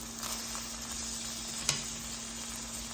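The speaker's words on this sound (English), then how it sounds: "what we're doing is trying to create texture with frying it in extra virgin olive oil" Polenta that was cooked beforehand fries in extra virgin olive oil, giving a steady, moderate sizzle with one brief sharp pop partway through, with no talk.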